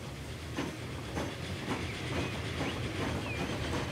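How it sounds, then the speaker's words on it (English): Train passing in the railway game Transport Fever on the Washington–Toronto line, a steady low rumble with rhythmic clickety-clack wheel beats and occasional faint squeals, moderately loud and alone without talk. "So that's actually one of our trains."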